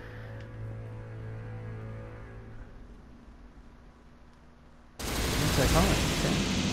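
Enemies fire at the player in Devil May Cry 3 on Heaven or Hell difficulty. Dull game ambience comes first, then a loud burst of dense rapid gunfire suddenly cuts in and carries on.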